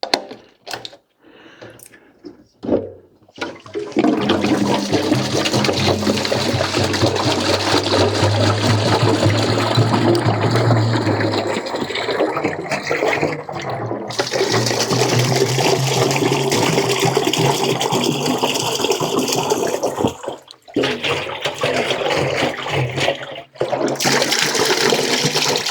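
Vinegar gushes and splashes out of a Moto Morini 3 1/2 Sport motorcycle fuel tank, a loud sustained pour after some brief handling knocks, with a couple of short pauses and a thump near the end.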